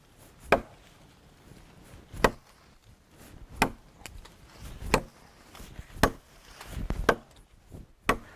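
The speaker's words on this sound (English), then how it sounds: "And let's just start chopping on the wood here." An old, very sharp knife chops into wood in seven or eight separate sharp blows, each a crisp knock spaced about a second apart, with faint rustling between strikes.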